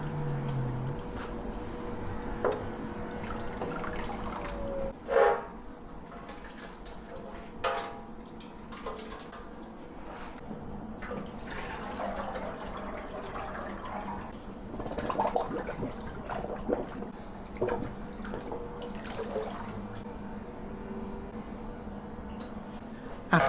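An acid-stripped chrome fuel tank from an 86-year-old BSA Empire Star motorcycle is rinsed in a workshop, giving faint running and splashing water with occasional drips under a steady background hum.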